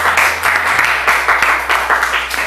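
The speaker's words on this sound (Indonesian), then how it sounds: "Tepuk tangan buat Mas Julianto." Classroom applause after a student discussion, a group clapping steadily and fairly loudly across the whole stretch with no speech.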